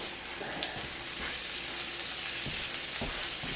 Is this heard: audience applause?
no